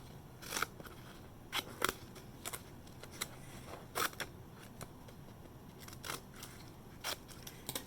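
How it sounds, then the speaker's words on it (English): Scissors snip through paper in a run of short, crisp cuts, irregular clicks and crunches spaced a fraction of a second apart, close and fairly quiet, with no talking. "Curving and turning my scissors to make a wavy line"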